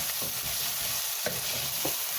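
Mutton soup being stirred in a pot over the heat, with a steady sizzle underneath and a few soft scraping strokes of the spoon, close by and with no talk.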